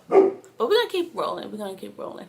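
A neighbor's dog barks in an urban West Philadelphia setting, several yaps mixed in beneath a person talking close to the microphone.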